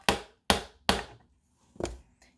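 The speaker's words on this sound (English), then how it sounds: "Grab hammer and tap." Four sharp, hard taps of a hammer, three in quick succession and then a short pause before the last, close and clear with no talking.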